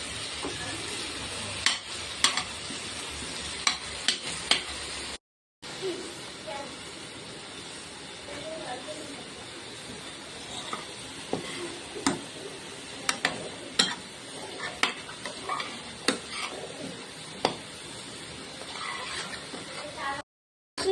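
Chicken curry masala stirred in a pan gives a steady low sizzle with repeated sharp scraping clicks of the spoon, close and fairly quiet, broken by a brief gap.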